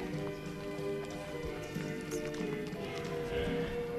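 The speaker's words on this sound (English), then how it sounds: "them horses is pretty much going around that ring by itself" Horses circle a show ring during a youth class, their hooves clip-clopping steadily on the ring floor beneath a constant crowd and arena murmur, with faint voices in the background.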